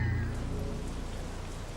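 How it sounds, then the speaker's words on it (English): Steady rain falls during a lightning storm, a constant hiss of drops with a low rumbling undertone, heard outdoors beside a car with no voices. "Check this out! This is rain."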